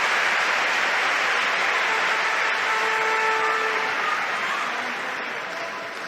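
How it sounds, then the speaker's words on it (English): A packed arena crowd at a 2017 world table tennis championship match in Dusseldorf cheers and applauds loudly. The dense, sustained roar eases slightly toward the end. "The crowd raising the roof here in Dusseldorf."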